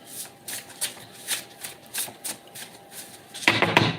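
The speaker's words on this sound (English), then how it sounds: "Two more shuffles." Tarot cards riffled and shuffled by hand in a series of quick, soft bursts at close range, ending in a louder, denser flurry of card slaps, with no talking.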